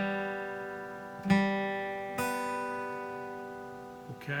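An acoustic guitar is played fingerstyle: sustained ringing notes with a few plucked attacks and a pitch glide as a finger slides up the fretboard, quiet and close, with no talking.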